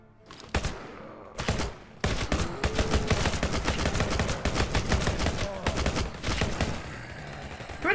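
A 5.45 rifle fires in the zombie-apocalypse video game Fallnation: two sharp single shots, then a long rapid string of loud, closely spaced reports that trails off at the end.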